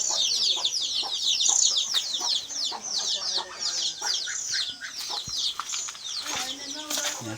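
Many chickens, kept alongside ducks and turkeys on a farmyard, cluck and chatter in rapid overlapping bursts, fairly close and continuous, with a few low knocks and rustles underneath.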